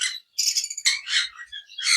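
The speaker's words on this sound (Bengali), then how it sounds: "এখানে বেশ কিছু রেড হেড অপার লাইনের বেবি পাখি আছে যেগুলো মাত্র নিজে খাওয়া শিখেছে" Baby red-head opaline pet birds, young enough to have only just learned to feed themselves, chirp in quick bright bursts, several overlapping calls filling nearly the whole clip after a short pause near the start.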